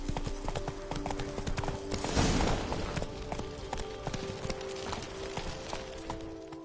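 Horse hooves clip-clopping at a steady riding pace in a video game, a rapid even clatter of hoofbeats that swells briefly midway, with no voices.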